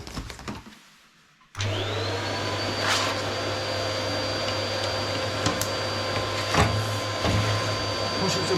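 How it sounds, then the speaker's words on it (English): A vacuum cleaner switches on with a sudden roar and then runs steadily at close range, a constant whine and hum, with occasional knocks and scraping as it works around a Rayburn Rembrandt range cooker. "have the vacuum running."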